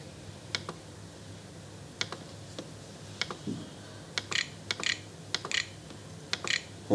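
Bursts of typing on a computer keyboard, sparse single clicks followed by quicker clustered taps toward the end, close and clear over a quiet background with no talking.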